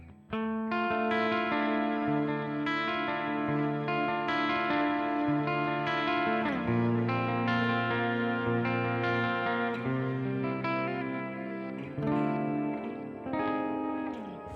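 Electric guitar through a Headrush Princeton Reverb amp model plays clean sustained chords and notes with lush reverb, loud and continuous with no talking.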